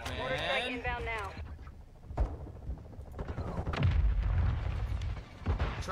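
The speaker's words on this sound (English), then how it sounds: "Mortar strike inbound now." Mortar strike explosions in Call of Duty land as heavy, booming thuds, with a sharp blast near two seconds and a rumbling barrage after four seconds, while voices and game chatter run over the start.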